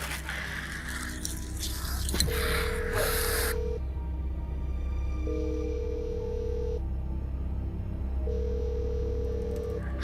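A phone ringback tone while a food-delivery driver calls a customer, three steady evenly spaced tone bursts heard after a short burst of rustling noise, with a low constant hum underneath.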